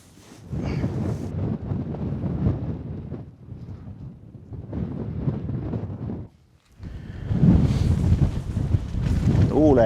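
Strong wind gusts buffet the microphone at a lakeside camp on the shore of Virkejävri in Lapland. The rumbling roar surges and eases in waves and briefly drops away before returning louder.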